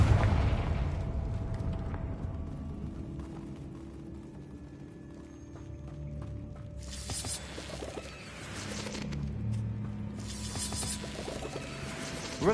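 Confringo fire spell cast in the Hogwarts Legacy game on PS5: two bursts of bright, broadband blast and crackle, each lasting a couple of seconds, over a low game-music bed with no talk.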